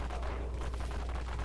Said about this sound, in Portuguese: Você dá um tiro aqui, o zumbi voa lá na China.